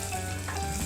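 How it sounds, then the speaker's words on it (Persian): Butter melting in a pan for a restaurant-style spinach sauce gives a steady crackling sizzle, close and continuous, with a brief louder pop at the end. "من حدود 20 گرم کره رو داخل یه ظرف آب میکنمش"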